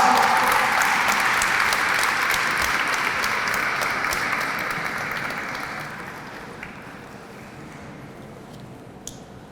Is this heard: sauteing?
no